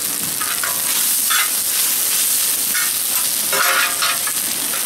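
Bok choy stir-fries in a hot discada cowboy wok, a steady loud sizzle with bursts of crackling and scraping as the greens are tossed, continuous throughout with no talking.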